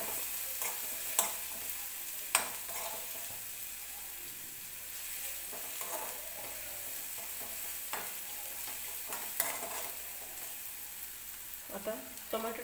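Green chillies fry in oil in a pan for a spinach dish, giving a quiet, steady sizzle broken by occasional sharp clinks and scrapes of stirring.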